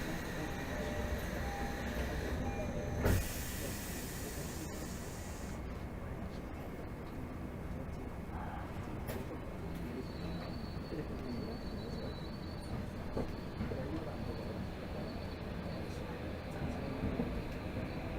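A Tokyo Metro Hibiya Line 13000 series train running between stations, with a steady rumbling roll and a brief sharp burst early on, the sound holding at an even moderate level throughout.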